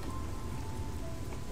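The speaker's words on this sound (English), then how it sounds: "I'm so glad it's still raining in STV." Steady rainfall in Stranglethorn Vale in World of Warcraft, a dense, even patter of drops with low rumbling beneath, continuous and fairly close, no voices.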